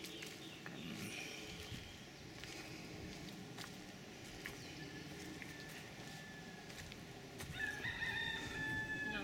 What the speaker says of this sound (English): So these are just wild chickens that live here?